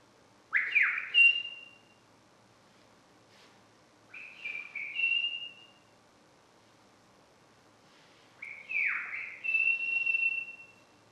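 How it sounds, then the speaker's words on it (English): A person whistles three separate phrases, each a sliding note that settles into a held high tone, with short silent gaps between them, close and clear against a quiet background. "I can only remember his whistle."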